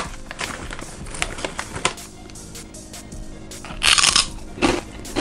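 Crunchy fried pig skins dusted with Carolina Reaper pepper powder are bitten and chewed up close, giving loud, sharp crunches in uneven bursts with a heavier crackle near the end.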